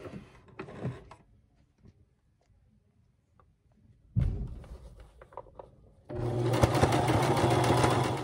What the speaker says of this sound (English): And then I sew forward and I sew back.